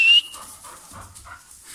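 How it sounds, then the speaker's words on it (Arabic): A mother dog lies with her newborn litter of black puppies from a German shepherd and golden retriever cross in Egypt. A short thin whimper comes first, followed by faint soft whines and snuffles close by. "اهي الكلاب، دي الكلاب"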